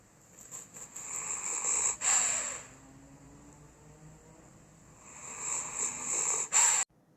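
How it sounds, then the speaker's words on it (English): A man snores in his sleep, with two loud, raspy breathing bursts set apart by a quieter stretch of soft breath, all close to the ear. "I have multiple videos of him snoring."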